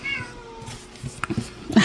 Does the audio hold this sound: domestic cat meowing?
yes